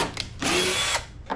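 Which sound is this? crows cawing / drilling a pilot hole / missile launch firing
drilling a pilot hole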